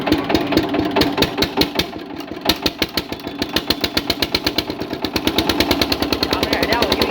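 An Eicher engine, starting after sitting unused for a long time, fires up and runs in a loud, rapid, evenly spaced thumping chug close by, with the beat quickening briefly as it revs.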